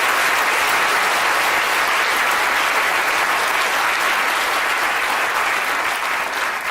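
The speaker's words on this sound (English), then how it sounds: "A round of applause for Tim for trying our water" A lecture audience at a Royal Institution chemistry talk claps steadily and densely throughout, a sustained full-room applause with no pauses.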